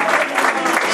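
A church congregation claps in praise of the Lord, a dense, even wash of applause filling a brief moment, loud and close, with voices mixed in.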